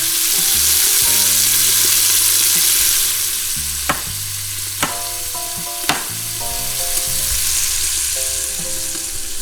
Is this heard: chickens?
no